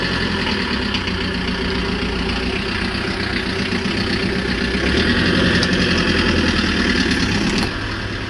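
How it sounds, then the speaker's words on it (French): A car engine idles just after starting, giving a steady, continuous near rumble at an even level throughout with no voices. "Le moteur vient juste de démarrer."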